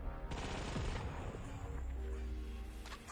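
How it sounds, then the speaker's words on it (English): Rapid gunfire from shooting robots in the VR game Sweet Surrender, a loud continuous burst of game weapon fire with layered electronic effects and a low rumbling bed. "You go through levels, you shoot robots in the face"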